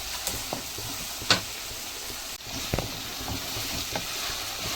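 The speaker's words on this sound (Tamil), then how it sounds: "இஞ்சி பூண்டு பேஸ்ட் போட்டு நல்லா வந்து அதை வந்து நல்லா வதக்கி விட்டுக்கோங்க" Ginger garlic paste frying in a pan for a goat intestine (boti/kudal) gravy, giving a steady close sizzle punctuated by a few brief stirring scrapes, with no voices.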